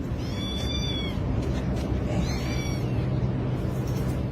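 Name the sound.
kitten meowing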